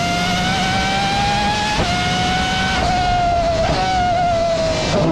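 A 12-cylinder car engine holds a steady, smooth high-pitched drone with bright harmonics, heard close and loud with wind noise and slight pitch dips as it runs.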